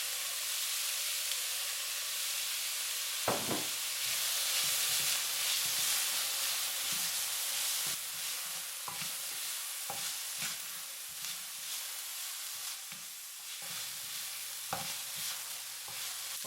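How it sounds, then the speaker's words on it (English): Chopped white onions and green pepper browning in a pan give a steady sizzle and hiss, broken by scattered scraping and stirring clicks of a utensil, with no talking. "Brown up the white onions. Next, we'll put in the chopped up green pepper."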